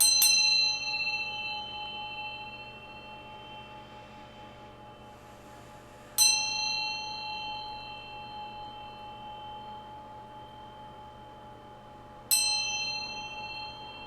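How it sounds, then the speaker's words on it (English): A single hand bell rings three times at even intervals, each bright metallic strike sharp and clear, then ringing out and fading slowly in a quiet room. "I'm going to ring this bell to bring in some good vibes here"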